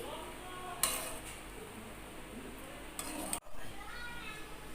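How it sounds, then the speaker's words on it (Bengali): A metal spatula scrapes and clinks in a pan as rice is mixed with potato, soybean and whole spices for soybean pulao, with a few sharp metallic knocks over a soft sizzle. "রাইসটাকে আলু সয়াবিন এবং পুরো মশলার সঙ্গে ভালো করে মিক্স করে নিচ্ছি"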